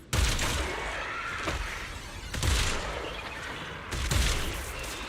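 Heavy gunshots in the action game Zenless Zone Zero, landing as three or four loud, booming hits spaced a second or more apart, each trailing off into a rumbling backdrop, with no talking.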